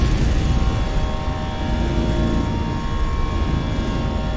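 A Ryanair airliner taking off in a flight simulator, with a loud, continuous engine roar that holds steady for the whole stretch and has no talking over it.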